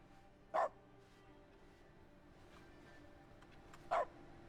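A dog in the video game The Stanley Parable: Ultra Deluxe gives two short, sharp barks spaced a few seconds apart over a quiet, faint ambient background.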